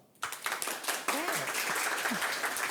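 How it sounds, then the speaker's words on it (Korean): An audience at an esports industry talk show in Busan breaks into applause, a burst of many hands clapping that starts abruptly and holds at a moderate level, with a few voices audible beneath it. "여러분, 다시 한번 크라니 씨님에게 박수 한번 부탁드릴까요?"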